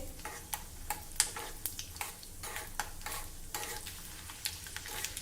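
Peanuts are stir-roasted in a pan until lightly browned, making rhythmic scraping, rattling strokes every half second or so over a soft frying hiss, close and steady, with no one talking.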